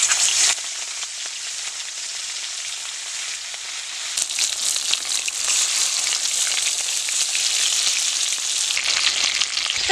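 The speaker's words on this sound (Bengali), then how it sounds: "তেলটা আমার গরম হয়ে গেছে, লবণ হলুদ মেখে রেখেছিলাম, এই মাছটা আমি দিয়ে দিচ্ছি।" Tilapia pieces rubbed with salt and turmeric go into hot oil and sizzle steadily, a close, continuous hiss with a sharp jump in intensity partway through as more fish hits the pan.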